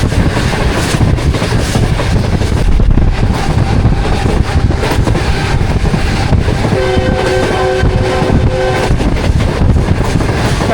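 An express train thunders through Mubarakpur railway station at full speed, a loud continuous rumble and rattle of passing cars with wind buffeting, and a sustained horn sounding near the end.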